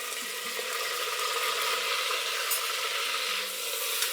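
Onions and green chillies sauté in a pan for tomato rice, making a constant soft sizzle with a light watery hiss, steady and moderately close, without any talking.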